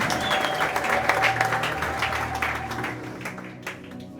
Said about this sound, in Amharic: እልልታ ጭብጨባ ለጌታ ይገባልና ያንስበታል